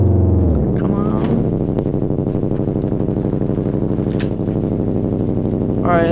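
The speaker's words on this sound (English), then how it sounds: "This engine is loud." A 4x4 offroad vehicle engine in the video game Terrible Offroaders drones steadily with a low, pulsing rumble throughout, loud and close, with a brief higher whine at the start and end.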